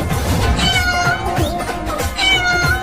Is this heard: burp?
no